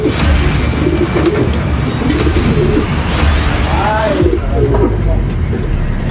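Pigeons coo repeatedly up close: a series of soft, rolling, rising-and-falling calls over a constant noisy background of outdoor hum.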